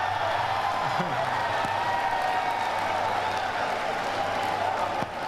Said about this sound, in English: Now listen to that crowd reaction.